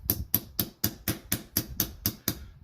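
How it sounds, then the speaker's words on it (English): Ten sharp, evenly spaced taps ring out as the soft side of a hammer drives a pin back into a watch bracelet, each strike close, crisp and moderately quiet. "Soft side of the hammer so that you don't mar your brand new bracelet."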